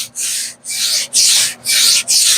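Sanding primer by hand: five close, even strokes of a gritty, hissing rasp, each separated by a brief pause, in a steady rhythm.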